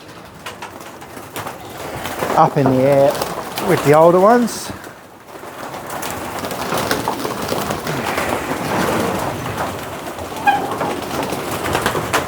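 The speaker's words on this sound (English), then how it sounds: "I'd really like to get this real young group of pigeons that are in this section where I am now" A group of young pigeons in a loft coo and flutter close by, with a couple of clear calls early on and softer activity later, while someone talks over them.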